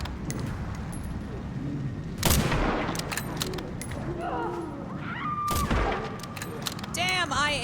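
Gunfire in a video game: two loud, sharp shots several seconds apart, with scattered quieter pops and game effects between them, under excited talk.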